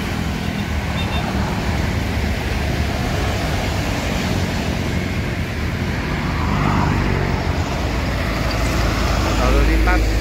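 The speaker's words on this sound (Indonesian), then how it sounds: "Lalu lintas di hari Minggu belum terlalu padat" Sunday road traffic rolling past at a bus stop, a dense continuous roar of engines and tyres with a slight swell toward the end, loud and close, while someone speaks over it.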